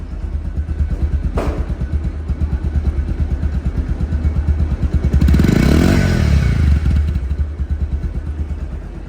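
A second-hand Bajaj Pulsar motorcycle engine in showroom condition runs close by with a rhythmic, throbbing idle, then revs up briefly in the middle before settling back to idle.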